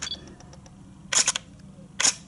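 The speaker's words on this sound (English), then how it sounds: "I'll just take a shot with it." A Pentax K-50 DSLR fires its shutter twice, each a crisp, close mechanical clack-and-return about a second apart, over a quiet room background.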